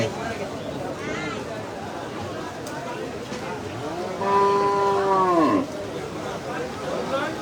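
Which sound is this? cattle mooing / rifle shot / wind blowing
cattle mooing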